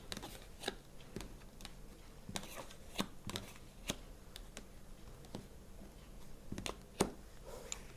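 Tarot cards handled and laid out on a table, with soft irregular taps, slides and flicks spaced through the clip, quiet and close.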